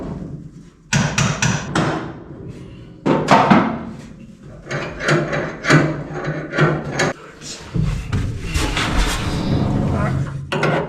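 Hammer blows in a garage during brake work on an old vehicle (hydroboost, clutch master and brake master cylinders), loud close thuds and clanks in irregular bursts over about eleven seconds, with someone speaking among them.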